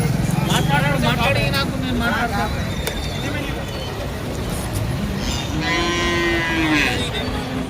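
Buffaloes low loudly amid a busy crowd at a large buffalo market in Erragadda, Telangana, with people talking throughout and a drawn-out moo rising near the end.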